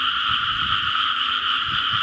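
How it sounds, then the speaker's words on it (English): Hundreds of frogs croak together in rice fields beside a century-old Thai house, a dense, continuous chorus that is loud and unbroken, with no voices over it. "Hundreds of frogs"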